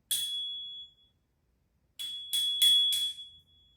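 A bright metallic bicycle bell, a cheap imported one, dings once and rings out, then after a pause strikes four quick times in a row, close and clear.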